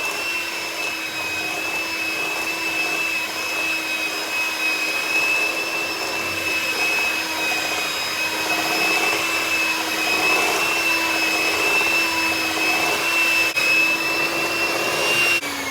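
Electric mixer blending a flour mixture into Lucky Charms cookie dough, a steady loud motor whir with a thin high tone running continuously and close, no voices over it.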